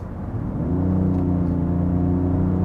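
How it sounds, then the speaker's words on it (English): The diesel engine of a Genesis GV80 SUV in sports mode gives a steady low hum and rumble that swells slightly, then settles into an even drone, heard from inside the vehicle. "let me just let you hear the engine a little bit"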